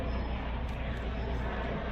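Helicopter noise plays as a sound effect during a theatre piece: a dense, unbroken roar at a constant, moderate level, with no gaps and no voices over it.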